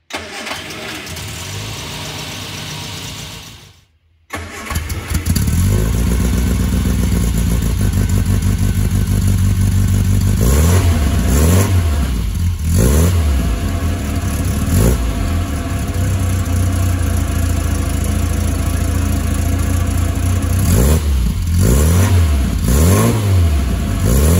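Innocenti 950 Spider cold-starting: cranking, a brief pause, then the engine catches and settles into a loud, steady idle close by, broken by repeated sharp throttle blips that rise and fall.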